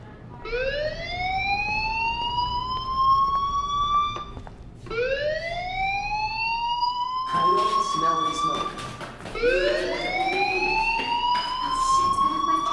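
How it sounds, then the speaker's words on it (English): School fire alarm in the Life is Strange video game, three rising, wailing siren sweeps repeating at a steady pace, loud and sustained, with a burst of voices talking over the middle. "do you hear that fire alarm? That means you should be outside."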